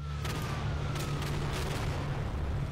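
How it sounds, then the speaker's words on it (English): Airstrike in the World War II shooter Day of Infamy, rumbling blasts and distant booms over a steady low battlefield roar, with a few sharper impacts standing out amid the continuous din. "Airstrike."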